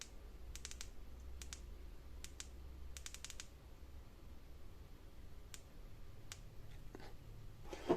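Several sharp button clicks from a flashlight being switched through its strobe and brightness modes, short isolated taps in small clusters over a quiet background.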